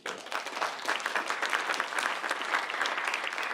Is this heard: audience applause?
yes